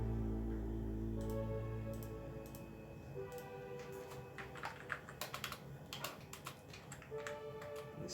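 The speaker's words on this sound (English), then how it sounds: "This keyboard is really mushy." Quick bursts of clacking keystrokes on the mushy keyboard of an early iMac, close and fairly soft, following a steady low hum that fades in the opening seconds.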